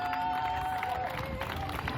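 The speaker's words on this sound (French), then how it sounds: "On peut les applaudir." Outdoor crowd in a village square claps and cheers for arriving relay runners, a dense continuous patter of applause mixed with crowd noise and a faint whistle-like tone.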